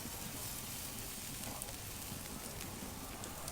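Tri-tip searing on a Santa Maria grill attachment over a Weber kettle, a steady faint sizzle and crackle continuing without pause, no talking.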